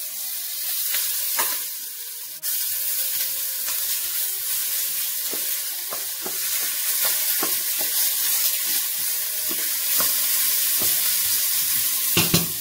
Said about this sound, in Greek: Και τα τσιγαρίζουμε και αυτά.